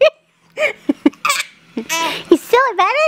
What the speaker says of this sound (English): You hiccup.